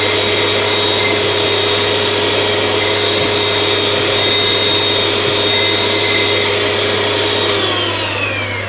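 An electric mixer whisks six egg whites for a keto Christmas stollen batter, a loud steady whirring drone held for the whole stretch with a slight fade at the end and no talk.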